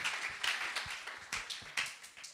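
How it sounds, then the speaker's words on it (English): Church congregation clapping at a sermon, a quiet scattered patter of hands with uneven bursts, fairly distant and soft. "If you're going to clap, clap."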